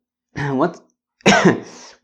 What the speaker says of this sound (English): the cough is already part of the intro now